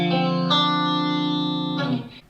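Fender Elite Stratocaster electric guitar on bridge and middle pickups, two strummed chords with a chorus-like shimmer ringing out, then muted with a brief scrape near the end, clear and unaccompanied by speech.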